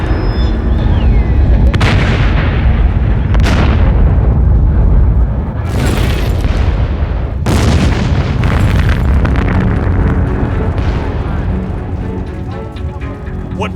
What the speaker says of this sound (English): the barrels start to explode.